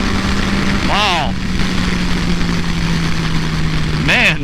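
A 2014 Yamaha FZ-09 motorcycle engine drones steadily under a rider's voice, with two quick rising revs as it accelerates, near and loud against wind noise.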